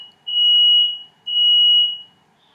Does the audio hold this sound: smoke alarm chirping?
yes